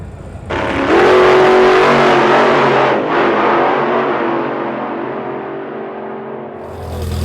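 A 1970 MGB launches hard at an outdoor autocross event, its engine roaring loud and close as it accelerates, then holding a strained, steady drone that slowly fades as the car pulls away.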